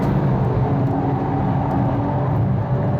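Porsche 911 Turbo with PDK gearbox driving on the Tor Poznań race track, a steady engine drone with road roar heard from inside the car, no talk.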